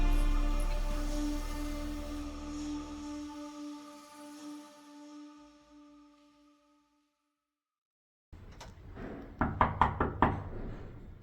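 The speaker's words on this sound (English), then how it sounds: "Let's see who's at the door." A fading sustained musical tone dies away into silence, then a quick cluster of sharp knocks on a door raps out loud and close.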